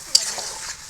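Meat sizzles and is stirred in a pan over an outdoor wood fire, a brief steady hiss of frying with a light scrape of stirring, close and moderately loud.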